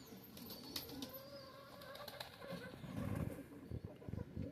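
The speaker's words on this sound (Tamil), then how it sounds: "புறாக்கள் எல்லாமே வந்து ஒரே வகை தான்." Pigeons coo softly amid chirps while wings flap in brief bursts, a busy flock nearby with the fluttering growing denser toward the end, no talk heard.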